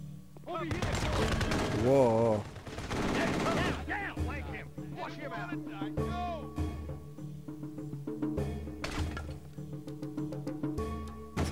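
Gunfire from the PS2 video game Kill Switch crackles in bursts of rapid shots and single reports, mixed with game effects and someone talking over the action.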